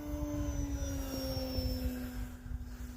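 An E-flite Ultimate 3D radio-controlled model airplane flies in the snow, its electric motor giving a steady, sustained whine that shifts slightly in pitch as it passes, with no voices.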